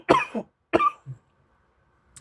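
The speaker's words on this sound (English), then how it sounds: "I know I just started coughing right at the beginning of this video" A sick person coughs twice in sharp, close bursts, followed by a short throaty sound and then quiet.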